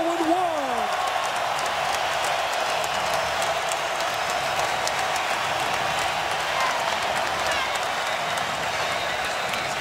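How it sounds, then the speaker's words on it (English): A huge crowd of over 35,000 at a college basketball game between Duke and Syracuse roars in a dense, sustained wall of cheering and noise that holds steady throughout. "The biggest crowd ever on a college campus for a game. Going wild, man. Going wild."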